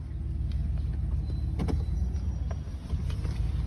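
A Ram pickup truck with new brakes, calipers and rotors pulls away on a test drive around the block, a steady low engine and road rumble with faint knocks, heard from inside the cab.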